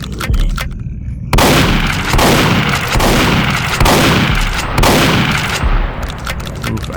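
Shotgun fire in the S&Box Shoot House game, a series of loud heavy blasts spaced roughly a second apart, each with a booming tail, up close and alone without talk.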